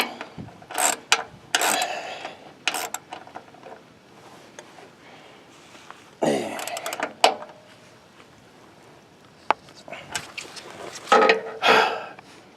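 The last bolt tightened on a basic sawmill with an extended trailer: bursts of ratcheting wrench clicks come in short, uneven runs, loud and close, with quiet gaps between them.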